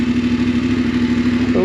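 A brand-new Voge DS900X adventure motorcycle idles close by with a steady, throbbing engine note and a strong low hum, its revs beginning to rise right at the end.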